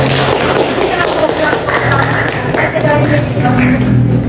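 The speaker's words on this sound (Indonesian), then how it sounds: "Tepuk tangan dulu dong." A lecture class of health polytechnic students giving a round of applause, a steady dense patter of many hands close by with voices and room chatter underneath throughout.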